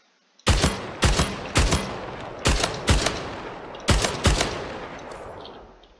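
A gun fires on the shooting range in the video game Splitgate, with seven sharp, loud shots in an uneven rhythm, each with a short ringing tail and nothing else behind them.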